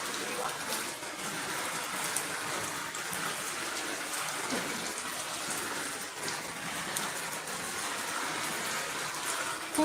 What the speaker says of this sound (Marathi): आमच्याकडं खूप जास्त पाऊस आहे